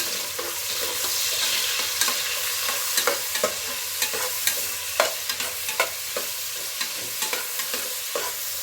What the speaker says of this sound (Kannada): ಈಗ ಕಟ್ ಮಾಡ್ಕೊಂಡಿರೋ ಈರುಳ್ಳಿ ಹಾಕ್ತಾಯಿದ್ದೀನಿ. ಎಣ್ಣೆ ಸ್ವಲ್ಪ ಚೆನ್ನಾಗಿ ಬೇಯಲಿ ಈಗ ಈರುಳ್ಳಿ.